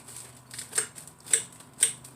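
A knife cuts through a loaded pizza on Italian bread with sauce, making three crisp, evenly spaced crunches through the crust against a quiet background.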